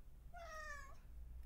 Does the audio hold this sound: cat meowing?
yes